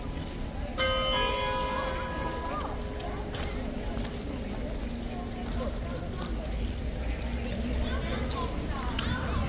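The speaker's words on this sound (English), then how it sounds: "For 1 minute, in fact, it's going to chime." A clock chime rings out with bright, sustained bell tones near the start, then fades into a busy outdoor crowd with chatter and the clop of horse hooves around the guards.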